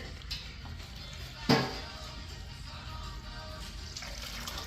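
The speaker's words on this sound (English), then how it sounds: "we're transferring the wort into the fermenting bucket, straining out all of the hop material" Homebrew wort pours into a fermenting bucket through a strainer that catches the hop material. The result is a steady watery rush with one brief splash partway through, close and moderately quiet.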